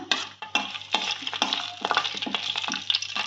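Cinnamon, cardamom pods and bay leaves sizzle in hot oil in a pan, a soft frying crackle broken by repeated scraping stirs and light clatters against the pan.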